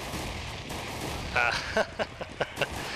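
A quick scatter of sharp gunshots from decoy grenades in Counter-Strike, about half a dozen irregular pops in the second half, over faint game background noise.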